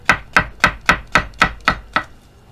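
Seven crisp knife chops on a cutting board, evenly spaced in a steady rhythm, close and clear with no talking.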